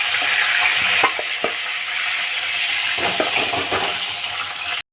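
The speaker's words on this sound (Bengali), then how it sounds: "মাগুর মাছ বেশি ভাজবো না, হালকা হালকা ভাজবো।" Magur catfish frying lightly in oil in a pan, a steady bright sizzle and crackle throughout with a few soft utensil knocks, heard up close with no talking, ending in a sudden cutoff.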